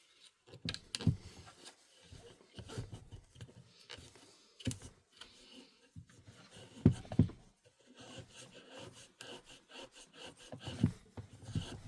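Close, quiet scrubbing of a cloth while cleaning the fan of a Kirby Sentria vacuum cleaner, with irregular rubbing strokes and small clicks and knocks of parts being handled.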